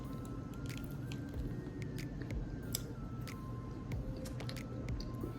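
Someone chews a mild beef and cheese Slim Jim stick up close, with soft squishy, moist bites and wet crunches repeating unevenly over a quiet background.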